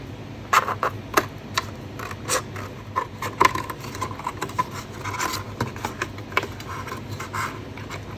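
Thick cardstock is cut along a fold line while trimming a gift canister, making soft, close scratchy snips and rasping rubs in an irregular series, each faint and short.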